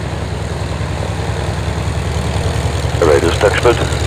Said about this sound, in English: Sky Raiders taxiing in.